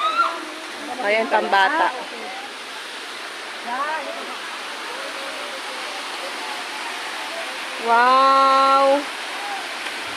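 Bolinao Falls in Pangasinan gives off a steady, broad rush of falling water that fills the whole scene. People talk and exclaim over the constant roar.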